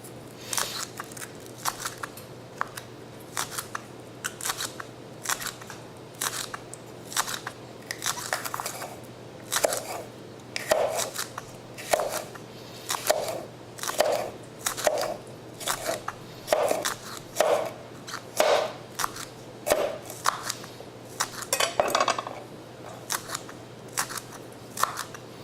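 A knife cuts through green onions on a cutting board, with steady repeated sharp crunchy chops close by. No speech.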